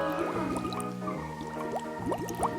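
Homemade bath bomb fizzing in water: a close, continuous bubbling and crackling with quick little pops and gurgles, steady throughout and without speech.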